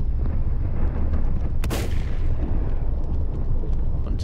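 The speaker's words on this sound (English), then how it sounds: "Before I waste all my ammo randomly firing at them." A single loud gunshot blast rises out of a steady rumbling background in the Volcanoids video game, with no talking.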